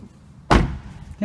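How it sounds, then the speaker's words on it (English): A car door on a 1968 Chrysler 300 with a 440 TNT engine slams shut once, a loud close thud, with another door starting to close right at the end over a quiet garage background. "Hold on, let me close my doors."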